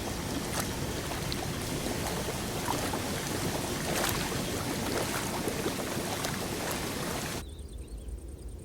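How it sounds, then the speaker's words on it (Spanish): Water pumps run in the dried-out Doñana marshes: a steady, dense mechanical drone with wind buffeting, constant and fairly loud, then dropping sharply to a thinner hum for the final second. "Doñana no suena a nada, suena a motores"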